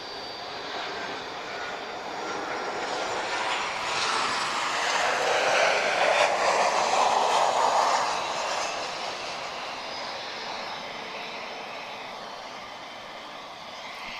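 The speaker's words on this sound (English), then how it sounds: "So 737 from Ryanair, Foxtrot Romeo 3610 arriving from Brussels" Ryanair Boeing 737 jet arriving at Lisbon Airport, its engine roar rising to a broad, loud peak around the middle before easing off, steady and without speech.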